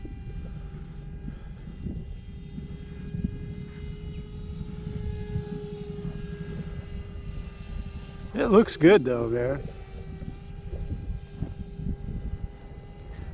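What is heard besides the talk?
RC F-86 jet with 12-blade electric ducted fan flying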